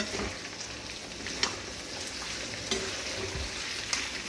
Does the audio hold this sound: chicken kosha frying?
yes